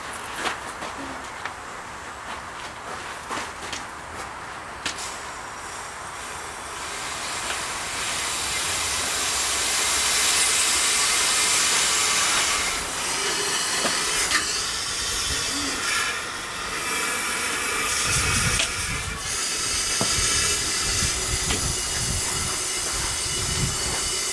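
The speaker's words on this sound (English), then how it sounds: "that packing's leaking air" Air hisses steadily from the worn packing of an old upright steam engine left sitting for years, a continuous leak close by with a few knocks and shifts in intensity, mostly alone without talk.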